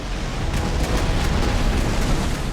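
Ship guns firing in the naval combat game Battlestations: Midway, a steady rumble of repeated booming shots with faint sharp reports spaced through the clip, no voices.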